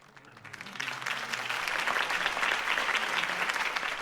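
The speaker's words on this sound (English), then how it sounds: "could have heard that applause" Crowd applause at a political campaign rally in the Batman Telltale video game, a steady wash of clapping that swells and holds loudly throughout without a break.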